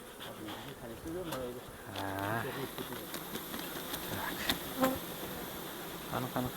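Honey bees buzzing around a beehive in Samarkand during a May honey harvest, a steady close hum of many insects with a few louder passes, while a person talks intermittently over it.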